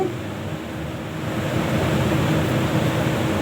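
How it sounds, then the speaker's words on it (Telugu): Leaves dropped into heated oil for chirraku fry with a steady, dense sizzle and hiss that swells slightly, close and continuous with no talking. "ఇప్పుడైతే ఈ ఆయిల్లో ఆకు వేసేయాలి ఆయిల్ కాస్త హీట్ అయ్యాక"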